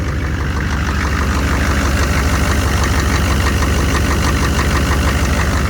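An engine idles steadily right after a cold start at 30 degrees, a loud, close, continuous rumble with a faint knocking texture and no voices over it.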